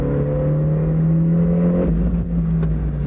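An Isuzu turbo car pulls away from a standstill with a loud, close engine note that climbs steadily, then drops at a gear change before building again. Any tyre squeal is not clearly separable.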